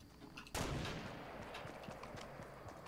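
A single sharp, loud gunshot in the Fortnite video game bursts out and rings into a long, rumbling decay, alone with no voices.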